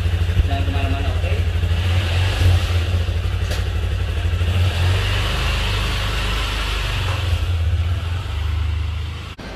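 A Honda CRF 150L motorcycle engine runs steadily with a low, throbbing idle and a slight rise as it gets going, loud and close, with a voice speaking over it.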